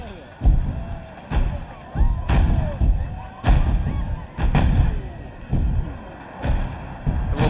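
Cannon fire from a pirate ship in Planet Coaster 2: repeated loud, deep booms spaced roughly a second apart, each a sharp thump trailing into a short rumble, with faint background game ambience between shots.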